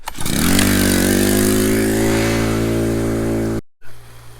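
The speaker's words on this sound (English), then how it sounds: "And full throttle on the pump." A high banker sluice pump engine runs at full throttle, a loud steady drone with strong low harmonics that settles after a brief rev-up, then cuts out abruptly near the end.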